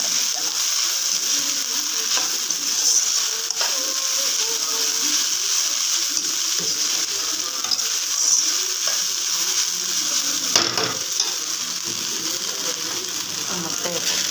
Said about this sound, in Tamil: இப்போ நம்ம சோறு போட்டு ஒரு பொருளாக சேர்த்து நம்ம ஃப்ரைட் ரைஸ் பண்ண ஆரம்பிக்கலாம்.